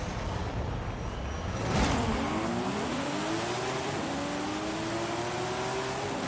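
An 800 HP 2002 Nissan Skyline GTR34 with a drag tune launches in Forza Horizon 5, its engine roaring loud and close and climbing in pitch through a quick run of gear shifts with no talk.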